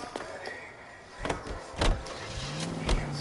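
A car in the L.A. Noire video game, heard as doors thunking and a motor whirring, with a few sharp clunks and an engine tone rising near the end, fairly close and with no talk.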